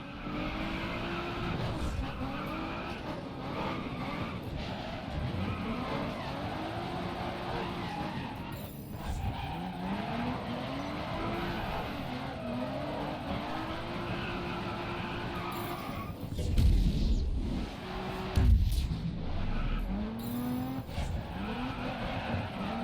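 Race car engine roaring steadily with repeated tire skids and squeals in Grid Autosport, a racing video game, rising into louder scraping bursts near the end as the car loses control.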